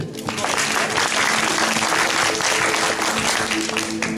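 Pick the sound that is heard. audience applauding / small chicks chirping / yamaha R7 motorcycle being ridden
audience applauding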